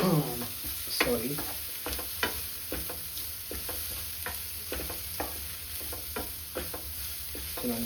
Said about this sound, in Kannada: ಸೊ ಇದನ್ನು ಚೆನ್ನಾಗಿ ಮಿಕ್ಸ್ ಮಾಡ್ಕೊಳ್ಳಿ.